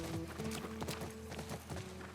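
Horse hooves clip-clopping at a steady trot while riding in The Last of Us Remake, a close, even patter of soft thuds over a low ambient hum, with no talking.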